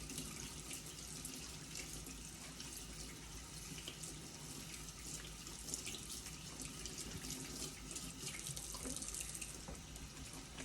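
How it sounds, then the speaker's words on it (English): A sink tap runs in a steady, even rush while a paint brush is rinsed under the stream, water splashing continuously close by with no voices. "as I rinse off the paint from my brush, I'm gonna start off just like this."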